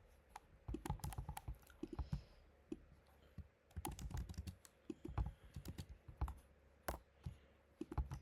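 Bursts of keystrokes rattle across a computer keyboard as a keyword is entered into an SEO research tool, quick irregular clicks close by and fairly quiet, with short pauses between runs and no voice.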